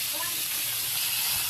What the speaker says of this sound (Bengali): মাছগুলো প্রচুর ফুটতেছে আর কি, ফাঁস ফুস করে ফুটে